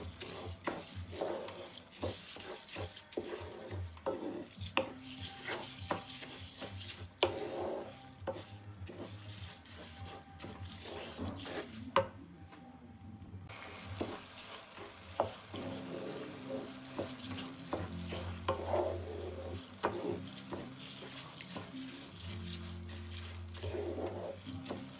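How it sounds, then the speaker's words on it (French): Shrimp frying in a pan for a shrimp and rice dish, a steady sizzle with stirring scrapes running throughout, close and moderately loud, with a brief quiet dip midway. "ونخليه يتقلى."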